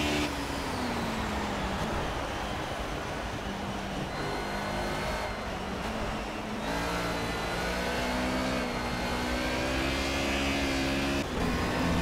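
Mercedes 190E in Project CARS racing at Brno in the rain, its engine revving up and down through gear changes with a steady droning tone and shifting pitch, close and continuous, with no talk.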